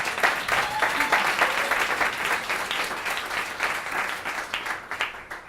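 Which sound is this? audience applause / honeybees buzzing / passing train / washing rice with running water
audience applause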